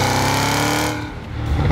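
A Cadillac CT5-V Blackwing V8 engine rumbles loudly and close, its deep throb dipping briefly mid-way before surging back, with no talking.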